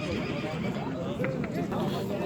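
A black horse at the Uchkun livestock market neighs amid crowd noise, a drawn-out whinny heard under loud overlapping voices of people talking nearby.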